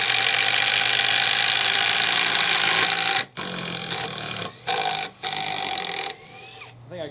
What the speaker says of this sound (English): Screw straight in, hit the timber, straight back out again.